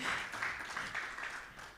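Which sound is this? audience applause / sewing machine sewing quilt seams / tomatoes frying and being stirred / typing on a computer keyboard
audience applause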